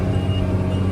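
Late third-generation Cummins diesel in a farm truck laboring up a steep hill in a field, a steady low engine drone heard close and loud for about a second.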